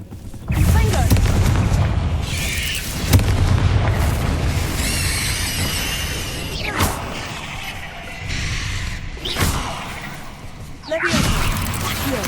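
Fiery blast spell erupting in the Hogwarts Legacy video game, a loud booming burst followed by rumbling crackle and further sharp impacts and whooshes over about twelve seconds, with a voice speaking over parts of it.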